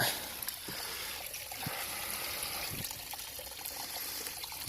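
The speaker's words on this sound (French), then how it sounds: "L'eau qui a bien creusé dans le sol là" Water running through a channel dug into the soil outdoors gives a continuous close trickle and babble, with small splashy bursts throughout.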